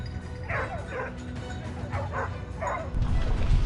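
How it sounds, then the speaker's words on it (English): Hunting dogs bark and yip in short repeated bursts, a few at a time, over a rumbling outdoor background during a wild boar hunt, moderately distant. "the barking of hunting dogs signaled the prey's position"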